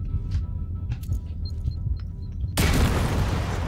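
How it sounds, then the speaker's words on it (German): A grenade detonates in the first-person shooter Firewall Ultra, a sudden loud, sustained blast of noise arriving after a stretch of low rumble and scattered faint clicks. "Und so werden die Granaten geschmissen"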